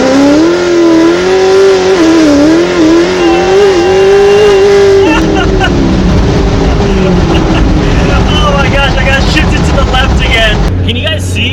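A cammed Z06 Corvette roars through a full-throttle pull, its loud, lumpy engine note climbing steadily before breaking into a harsh, rushing wind-and-exhaust roar at speed.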